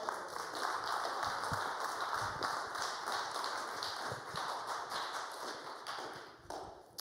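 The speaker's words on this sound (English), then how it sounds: "you have to keep clapping" Sustained audience applause fills a meeting hall, dense steady clapping from many hands at a constant level for several seconds before easing slightly toward the end.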